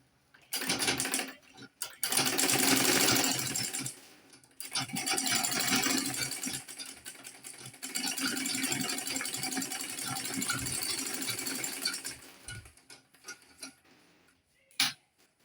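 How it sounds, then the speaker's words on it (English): A sewing machine stitches a ladies' shoulder bag in bursts, its rapid mechanical rattling loud and close, running several seconds at a time and broken by short pauses. "The wrong side, you are sewing on the wrong side."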